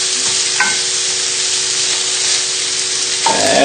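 Sausages frying in a pan for chilli pesto pasta, a steady close sizzle and hiss as they are moved around, with a brief clatter of stirring near the end.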